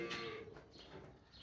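A cow lows on a farm, one drawn-out moo rising and falling, fairly close and moderately loud, with no voices over it.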